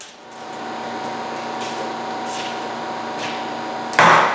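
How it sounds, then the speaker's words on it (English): Tack welding on a custom chopper motorcycle frame in a workshop: a steady electrical hum and hiss with a few brief crackling bursts and a loud sharp burst at the end, with no speech. "So I'm going to go ahead and tack weld some of this up."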